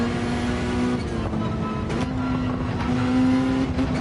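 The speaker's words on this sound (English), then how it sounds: "Oh, its acceleration's incredible." A race car in Gran Turismo 7 accelerates hard, its engine holding a loud, steady high whine with brief shifts in pitch, and faint tire noise beneath it.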